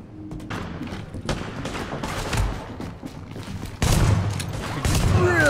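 M870 Express pump shotgun from The Division, fired at close range in several loud, sharp blasts, with the last shots heavier and louder, amid game ambience.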